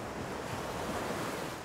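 Ocean surf washes continuously onto a sandy shore as the tide retreats, a dense steady rushing roar with some wind noise, close and fairly loud, no voices.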